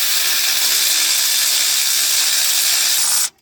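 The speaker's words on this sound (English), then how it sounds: "I've used an electric wrench to get this bottom one" An electric wrench spins out the lower bolt of a Honda starter motor on a K24A four-cylinder engine, a loud continuous high whirring hiss that cuts off sharply at the end.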